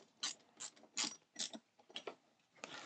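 Small metal GM screws are driven into metal inner parts of a World of Warcraft Lich King model kit, giving a quiet, close run of short ratcheting clicks in quick bursts of about eight turns.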